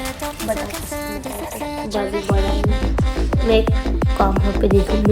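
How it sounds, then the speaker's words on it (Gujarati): A knife chops potatoes on a board in a home kitchen, sounding as a run of regular, sharp, thudding cuts that start partway through, with tonal background music playing throughout. "આપણે બટાકા સમારીએ છીએ"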